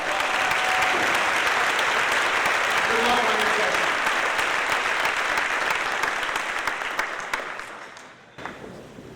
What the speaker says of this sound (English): Let's give them a collective round of applause.